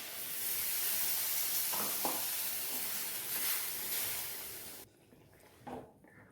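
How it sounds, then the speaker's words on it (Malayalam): Water from rinsing a blender jar is poured into a pan of sizzling prawn and mango curry with ground paste, giving a steady loud hiss and crackle that abruptly drops away near the end, followed by a faint stir. "മിക്സിയുടെ ജാറ് കഴുകിയ വെള്ളവും കൂടെ ഇതിനോട് ഒഴിച്ചു കൊടുക്കാം."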